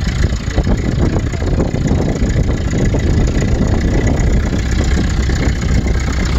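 A 1988 Toyota pickup's 22RE four-cylinder engine idles with no muffler at all, a loud, raw, continuous rumbling exhaust with an uneven chugging pulse, close and unbroken throughout with no talking.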